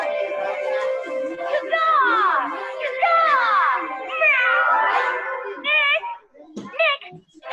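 A human voice imitates a cat's meow as a jungle sound effect, drawing out several long, sliding meows before finishing with a few shorter, clipped ones, loud and close.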